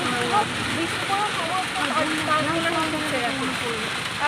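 Heavy rain falls at a riverside bathing ghat on the Ganges, a steady dense hiss of downpour and splashing water filling the whole stretch, with faint voices murmuring underneath.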